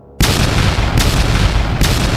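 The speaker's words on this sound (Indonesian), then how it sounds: "Ledakan terjadi di sekitar Trisven, memaksanya melompat mundur dengan tergesa-gesa." Three loud explosion blasts in a dramatized fantasy audio story, the first hitting abruptly after a short silence and the others following at regular intervals over a constant roaring rumble, with no talking.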